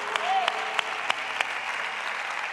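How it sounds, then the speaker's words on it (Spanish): A church congregation breaks into sustained applause, dense and fairly loud with sharp individual claps punctuating the steady wash of hands, filling the room throughout. "¿Qué te parece si ese aplauso es para Él? Se lo podemos dar mucho más fuerte"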